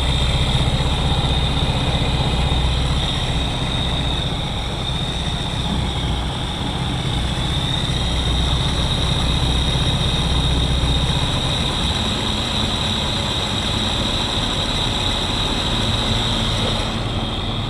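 A Jeep engine idling at a raised idle, a steady continuous drone with low rumble and a constant high whine, running alone close by without a break.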